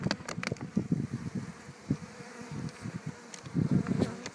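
Honeybees buzz at an open beehive being treated for varroa mites, a close, steady hum with louder passes as bees fly near, and no voices.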